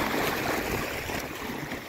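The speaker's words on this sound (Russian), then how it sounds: "Ни шума машин, людей, а только вода." Continuous broadband rush of flowing water near the sea at Kastropol in spring Crimea, steady and fairly loud throughout with no voices or traffic.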